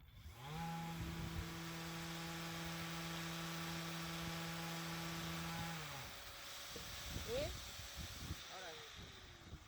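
An electric sander working on cured resin gives a steady, loud motor whine for about five seconds, then powers down and winds off into quieter handling noise.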